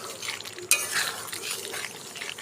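Stirring chicken kosha with spices in a pan: soft scraping and sizzling swirl steadily, with one brief sharper clink of the utensil near the start, close and moderately quiet.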